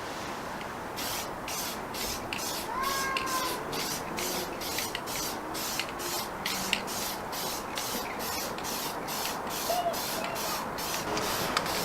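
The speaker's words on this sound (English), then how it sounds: "And then just spray evenly, not soak it." Spray paint hisses onto an RC short course truck body in a long run of short, evenly spaced bursts, close and steady with no talk.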